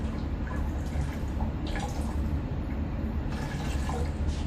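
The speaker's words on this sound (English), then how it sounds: "I'll just dump that milky water out into my beaker" Milky rinse water left from washing quartz discs is poured out into a beaker, a short continuous splashing trickle with soft drips, close and fairly quiet.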